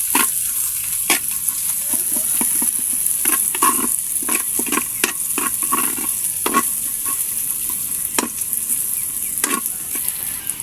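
Onion and garlic sautéing in oil in a pan for pork: a loud, close sizzle with frequent sharp clacks and scrapes of a spatula stirring.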